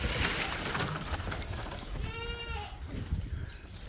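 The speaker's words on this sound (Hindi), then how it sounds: "हमारी बकरियां हमें दोस्तों कब से बुला रही हैं कि भाई साहब आइए और हमारे लिए कुछ खाने का लाइए।" Several small goats, kids among them, bleat in a Pakistani village farmyard while waiting to be fed, one wavering call standing out clearly midway over constant outdoor rustle and background noise.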